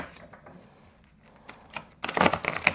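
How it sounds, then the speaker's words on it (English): Papery oracle card shuffling, soft scattered rustles building into a louder burst of rapid riffling near the end, close by with no voices. "I'm going to give this a quick shuffle"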